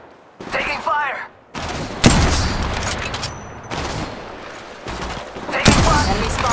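Bursts of automatic gunfire and explosive shots from the mobile battle royale game Apex Legends Mobile, loud and dense in several volleys separated by brief gaps, with in-game voice callouts mixed in.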